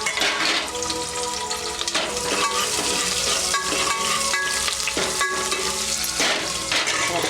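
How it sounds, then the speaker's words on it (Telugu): Onions, cumin and mustard seeds fry in hot oil in a pan for a broad bean curry, making a loud, continuous crackling sizzle with occasional stirring scrapes close by. "కొన్ని జీలకర్ర ఆవాలు వేసేస్తున్నాను. ఉల్లిగడ్డ అయితే వేసేస్తున్నాము"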